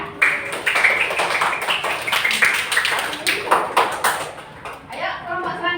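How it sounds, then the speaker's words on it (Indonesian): A classroom applauds a student group, with a burst of lively clapping that swells and fades over several seconds, mixed with overlapping voices and chatter nearby. "tepuk tangan buat kelompok cendekia"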